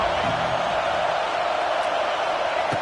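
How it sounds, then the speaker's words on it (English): Steady roar of a packed college football stadium crowd, a dense continuous wash of cheering voices that stays loud and even throughout with no single voice standing out. "listen to this crowd noise. This stadium is vibrating."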